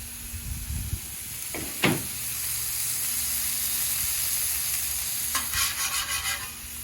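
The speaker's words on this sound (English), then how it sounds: "I'm going to take these 3 fatty patties, kind of right in the middle, and let them cook" Three fatty beef patties cook on a ripping hot griddle, giving a steady broadband sizzle and hiss throughout, with a couple of brief scraping or tapping sounds near the start and a burst of sputtering crackle toward the end.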